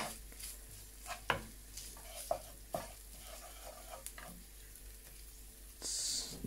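Chicken frying with garlic in a pan gives a soft continuous sizzle, broken by scattered sharp spatula scrapes and clinks, with a brighter burst of hissing near the end.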